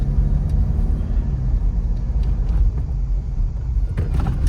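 A car travels along the Ganga Expressway near a toll plaza, its cabin filled with a loud, steady low road rumble and engine drone that holds constant throughout.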